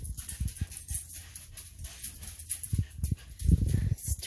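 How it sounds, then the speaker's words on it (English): A hungry dog barks in short bursts and whimpers while waiting for food, close by and indoors, the yelps irregular and rising in loudness toward the end. "what you barking at for? Don't bark at me."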